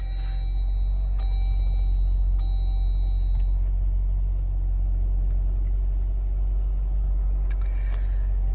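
A Jeep Wrangler JL engine runs steadily at idle after start-up, a loud continuous low rumble with faint higher whines and a few small clicks, no talking.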